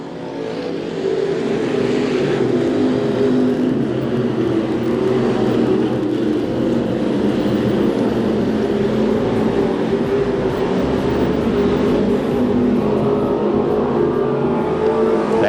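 Non-wing sprint cars race at Farmer City Raceway, several engines roaring together in a steady, loud, sustained drone that swells slightly as the pack passes.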